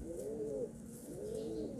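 A Rampuri pigeon coos twice in soft, throaty rolls, close by and fairly quiet, with no talking.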